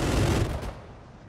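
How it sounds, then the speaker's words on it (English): Gunfire in the military shooter Arma 3: a loud burst of shots with a rough, rumbling blast that rolls off and decays into fading echo within about a second, no voices over it. "Still hearing shots."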